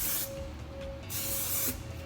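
Hair spray misting onto curls in short hissing bursts, two main sprays with a brief pause between, close and fairly quiet.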